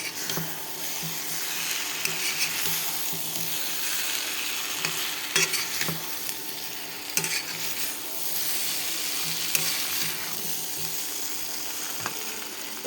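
Fried chicken pieces stirred into a spice paste in a pan, a steady dense sizzle with repeated scraping and occasional clacks of the spoon against the pan, close by and continuous.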